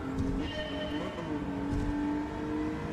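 Nissan VQ V6 engine in a racing game such as Gran Turismo 7 or Forza Motorsport, a steady trumpety drone with shifting harmonic tones as revs rise and fall, continuous and fairly close.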